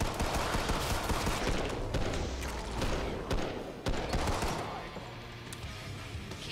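Weapons firing in Killing Floor 2, fast rattling volleys mixed with heavier single blasts, loud and close, easing into quieter scattered shots toward the end.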